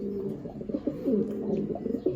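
Soft, throaty cooing from a Taiwan racing pigeon held close by, a few rolling low calls repeating over about two seconds with no voices.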